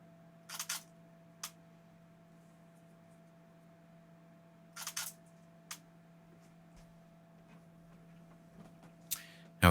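A camera shutter fires during test shots of a leaf being dropped for a color trails technique, giving sharp isolated mechanical clicks, a double click near the start, more spread out later, close and loud over a quiet hum.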